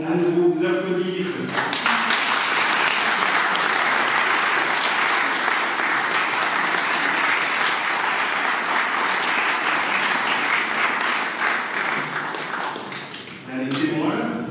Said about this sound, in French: Nous pouvons à nouveau vous applaudir.